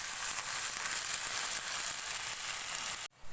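Half a kilo of finely minced beef sizzles steadily with onions in a hot pan, a dense even frying hiss with no talking, cutting off sharply near the end.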